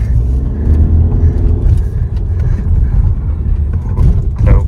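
A crossover SUV on a test drive in Germany, its engine and road rumble steady and loud from inside the cabin, with a brief rise near the end, no voices.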